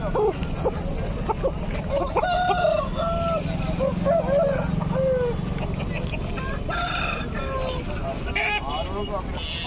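Roosters crow and cluck amid a busy Gudur chicken market, several birds calling in repeated bursts over a steady crowd murmur, with people talking nearby throughout.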